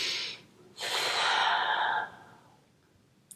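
Strong breaths during a yoga pose: a brief exhale, a pause, then a longer, forceful rushing breath lasting about a second, which fades away, close and alone without talk.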